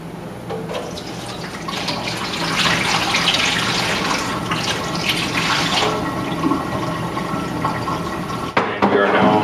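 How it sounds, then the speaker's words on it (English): Water drains from a LINX140T drinking water system into a bucket, a steady loud rushing flow that continues throughout and ends with a brief knock. "And we are now draining out into the bucket. So we're just going to let this continue to flow"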